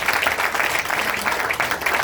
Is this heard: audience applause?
yes